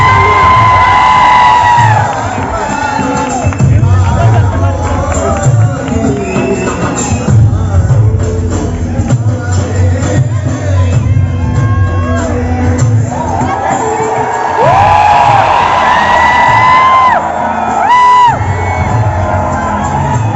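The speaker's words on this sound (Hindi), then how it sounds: "मैं आप सबसे एक बार रिक्वेस्ट करूंगा कि जोरदार तालियां बजा दीजिए।" A large university audience at an on-stage event cheers, whoops and shouts loudly and continuously, with crowd noise filling the whole stretch and swelling again near the end.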